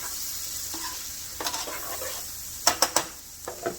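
Apples sauté in butter in a pan, a soft continuous sizzle with a spatula scraping and stirring, several sharper clacks of utensil on the pan near the end, close and alone.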